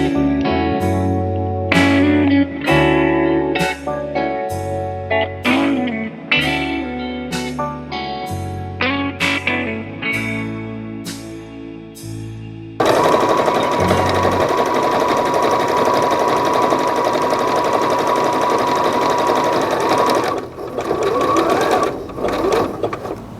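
A sewing machine runs a zigzag stitch in short close bursts of rapid mechanical chatter, stopping and starting, then a longer continuous run with a rougher, noisier whir before it slows.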